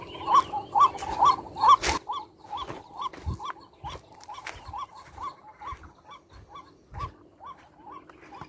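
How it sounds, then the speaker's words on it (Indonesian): A decoy bird calls during dove hunting, a repeated series of short, clucking mid-pitched notes in quick bursts that continue at a steadier pace, close and clear, with occasional knocks and rustles in between. "Itu suara pikat saya di sini."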